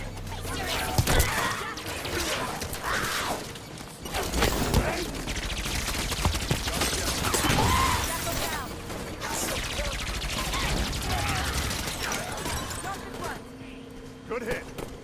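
Rapid bursts of gunfire and explosions in a Halo 5: Guardians battle against the Covenant, dense and continuous over a noisy mix, with a voice talking over much of it.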